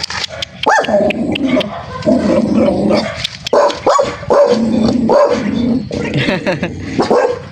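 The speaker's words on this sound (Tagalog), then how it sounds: "Ang gaganda po ng mga aso po nila." Several dogs bark repeatedly in a lively outdoor yard, sharp loud barks overlapping in bursts with a few yips, continuing throughout with a faint voice in the background.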